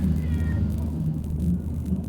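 A cat meows once, short and fairly clear, inside the Madrid Noir virtual reality game, over a constant low ambient hum with no speech.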